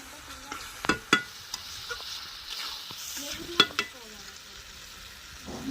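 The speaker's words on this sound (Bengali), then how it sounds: "এই আলুটার মধ্যে দিয়ে দেবো দিয়ে আর একটু ভালো করে কষিয়ে নেবো" Potatoes stirred into a thick spice masala in a pan over a clay stove, giving a soft, low sizzle with a few sharp scrapes and clanks of the spoon against the vessel.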